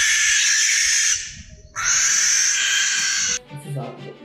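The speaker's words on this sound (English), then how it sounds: "you won't find an outburst that's more to blame for mental anguish than the banshee-coated barn owl" A barn owl gives two long, harsh, hissing screeches, loud and close, separated by a brief pause, followed by softer rustling and low sounds.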